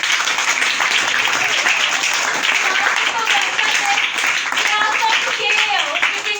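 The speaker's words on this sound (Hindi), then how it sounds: "खुदा आप सबको बहुत वगैरह अपने लिए तालियां बजाएं" Church congregation at a Friday meeting clapping together: a continuous, even wash of hands from start to finish, with voices calling out underneath.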